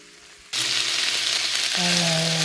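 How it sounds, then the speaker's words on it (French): Onion and crushed garlic cloves hit a hot pan and break into a loud, steady sizzle that continues close up. A low tone rises partway through, and no one speaks. "Là, je vais faire griller mon oignon"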